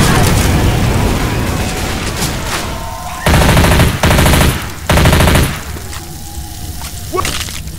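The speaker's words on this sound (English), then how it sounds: "Throwing a Molotov." Left 4 Dead 2 game combat as a Molotov is thrown and an auto shotgun fires, with dense loud gunfire and booms in repeated heavy bursts over a constant noisy battle din.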